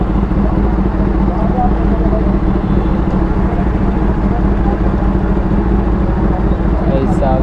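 A loud engine rumbles steadily and close by, a deep continuous roar like a motorcycle running, with no break in the sound.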